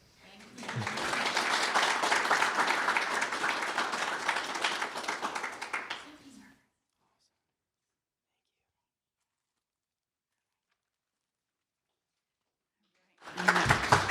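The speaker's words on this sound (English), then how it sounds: "Lots of applause, right?" Applause from an audience at a youth awards ceremony, a steady roar of many hands lasting several seconds before stopping abruptly into silence, then a fresh burst starting near the end.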